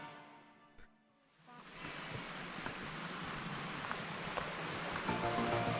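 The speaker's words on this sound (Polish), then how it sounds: "I wreszcie w dół do samego wodospadu." A waterfall in Wales, at the end of a hiking trail near an old bridge, gives a steady, dense rushing roar that swells in after a brief quieter moment and holds evenly, with no voices.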